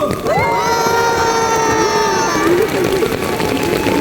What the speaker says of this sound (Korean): 문경 사과를 위해서 박수!